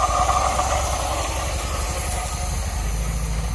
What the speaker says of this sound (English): Still got a noisy water pump / alternator,